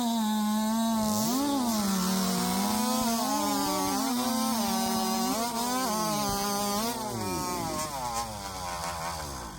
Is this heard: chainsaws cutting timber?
yes